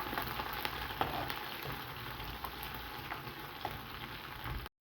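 Chopped ginger and garlic fry in a pan for a dates pickle, giving a steady close sizzle with faint scraping as they are stirred, and no voices.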